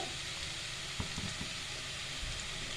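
Chili powder fries in hot oil for a Telugu-style fish masala curry, a steady soft sizzle with a few faint stirring clicks, close and continuous with no talking.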